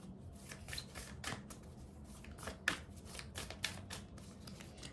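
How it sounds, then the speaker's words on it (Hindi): Tarot cards being shuffled by hand, a steady run of soft papery riffles and flicks at close range, fairly quiet, with no one talking. "let me shuffle the cards again"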